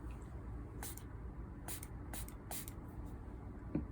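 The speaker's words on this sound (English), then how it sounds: "And not spraying at the paper, spraying horizontally." Several short hissing bursts from a spray bottle misting a watercolor painting, spaced unevenly over a few seconds against a quiet background.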